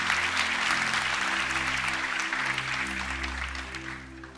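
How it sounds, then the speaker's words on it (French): Church congregation applauding during a sermon, dense continuous clapping that fades slightly near the end, with sustained organ or keyboard tones underneath. "Tu peux t'applaudir."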